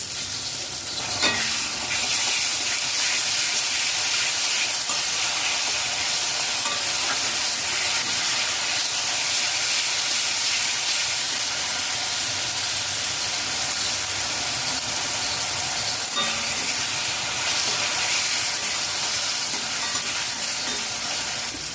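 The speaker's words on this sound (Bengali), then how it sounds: "এক মিনিট নাড়াচাড়া করে নিয়েছি মশলা থেকে তেল ছেড়ে দিয়েছে" Tomato puree with spices and pointed gourd frying in a pan while being stirred, a loud, continuous close sizzle and hiss that holds steady throughout without a break, with no voices over it.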